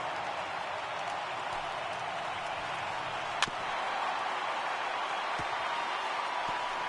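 A stadium crowd of over 39,000 roars in the MLB 18 baseball video game, a broad, steady wash of cheering that holds throughout, with one sharp knock partway through.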